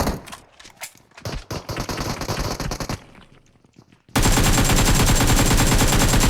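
PUBG Mobile gunfire: rapid automatic bursts, crisp and close, for the first three seconds, a quieter lull, then a sudden loud, sustained blast of continuous noise to the end.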